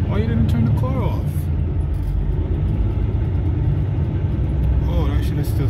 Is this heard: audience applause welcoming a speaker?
no